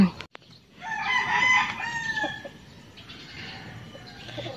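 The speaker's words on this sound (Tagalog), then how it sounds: "Daming manok dito eh." A rooster crows loudly nearby in a yard full of chickens, one long drawn-out call followed by softer clucking and a fainter second call in the background.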